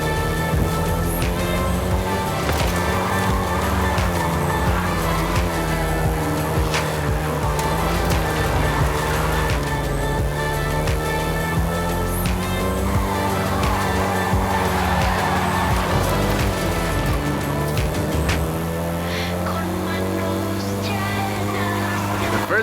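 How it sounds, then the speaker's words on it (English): A Volkswagen Golf GTI driven in Forza Horizon 5 produces a sustained engine drone that rises and falls with throttle and shifts, with occasional faint tire noise, steady and fairly loud throughout. "including the Golf GTI you're driving right now"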